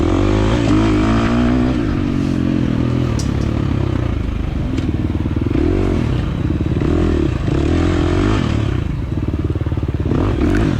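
A 2023 KTM 350 XC-F dirt bike races through an old-school hare scramble course, its four-stroke engine loud and close, revving and shifting continuously with clattering chassis noise throughout.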